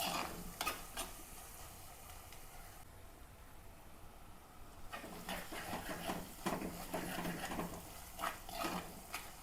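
A masala paste of onion, green chilli and ginger fries in a pan, giving soft sizzling with bursts of stirring and scraping, a quieter lull in the middle, then renewed busy stirring, all fairly faint.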